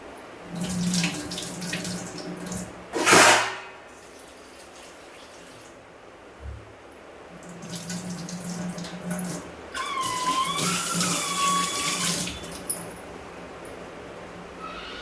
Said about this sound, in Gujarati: રાઈસ મેં ધોઈને જ પલાળેલા છે, તો પણ આપણે એક બે વાર સાફ પાણીથી એને વોશ કરી લઈશું